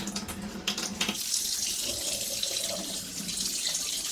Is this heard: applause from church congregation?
no